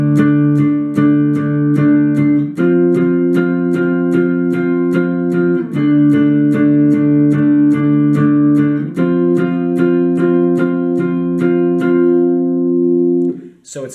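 Rhythm guitar chugs steady power chords through the intro of a song, loud and sustained. The chord changes fall at regular intervals, and the playing cuts off near the end.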